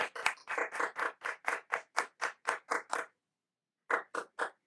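At the close of a business conference talk, hands clap in a slow, evenly spaced run of about a dozen crisp claps, pause briefly, then add three more, sounding close and sparse rather than like a full crowd.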